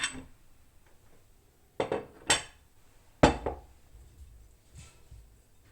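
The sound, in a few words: potatoes added to tajine pot of chicken and olives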